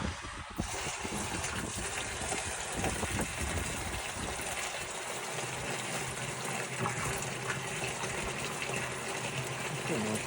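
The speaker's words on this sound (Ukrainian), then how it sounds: "Відкриваємо цей кран, щоб вода знову вдарила туди. Закриваємо, включаємо знову." Water gushes loudly and continuously from an Abyssinian well during hydraulic shock pumping, a close, turbulent rush with some mechanical rattle.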